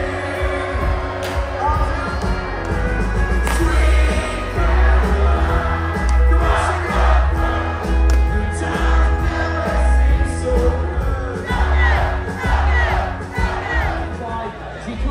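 A large audience at a Butlins Skegness New Year show roars and cheers almost continuously over loud music, a dense, sustained wall of crowd noise with swelling shouts.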